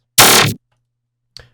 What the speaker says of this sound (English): so you can really like use it creatively to make a dispersory sound like this